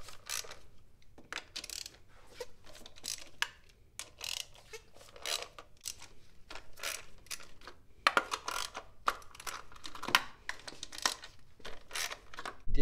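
A 10 mm socket wrench loosens valve cover bolts on a Mini Cooper, irregular ratcheting clicks and metallic taps in scattered bursts, close and fairly quiet, no talk.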